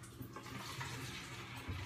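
Water runs steadily from a tap as it is filled for rinsing a paintbrush during chalkboard prop painting, a continuous broadband rush close by with no talk.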